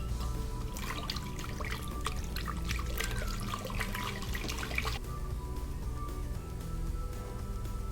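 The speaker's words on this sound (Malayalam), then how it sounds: "ഇതാ ഞാൻ ഇത്രയും വെള്ളം കൂടെ ഒഴിക്കുന്നുണ്ട് കേട്ടോ" Water poured from a small glass into a mixer jar of dosa batter, a steady trickling splash lasting about five seconds before it stops, leaving a quiet kitchen hum.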